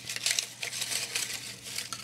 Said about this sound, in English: Take your time when you unball it.